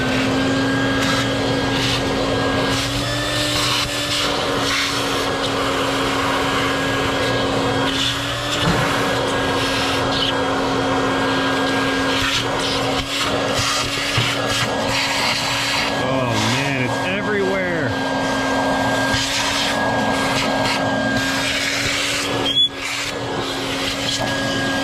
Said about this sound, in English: let's clean this mess out of here with said vacuum.